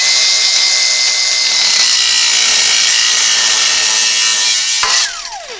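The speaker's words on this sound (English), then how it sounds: "I'm gonna cut off this clamp" A cutoff wheel slices through an exhaust pipe clamp on a Jeep, Dodge or Ram 4.7 exhaust, a loud, close, continuous high-pitched grinding whine that stops abruptly and spins down with a falling tone.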